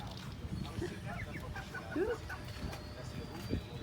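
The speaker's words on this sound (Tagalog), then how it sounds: "Ang daming pato." Ducks on a farm in the Philippine countryside give faint, scattered quacks and clucks, a few brief calls standing out over the low background while people talk nearby.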